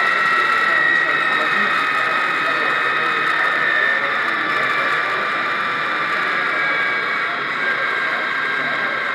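An ESU model locomotive at the 2014 Nuremberg Toy Fair runs its recorded real engine sound, a steady, droning, whining hum held throughout under a voice.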